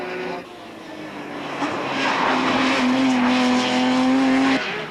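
A New Zealand Touring Car Championship race, with a BMW among the 1997 touring cars, heard as a single engine roaring past, its pitch rising into a loud sustained drone that then cuts off, with no talk over it.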